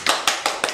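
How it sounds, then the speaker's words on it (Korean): A few guests being welcomed onto a Korean podcast get a short burst of clapping, with four sharp, close hand claps spaced evenly and no talking. "자, 박수."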